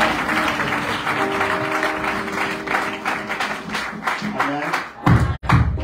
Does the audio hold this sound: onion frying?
no